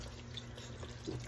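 Water is poured into a cooking mix, making a soft, low, continuous trickling splash that grows slightly louder toward the end.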